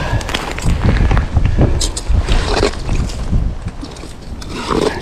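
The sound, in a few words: strong wind on frozen lake while ice camping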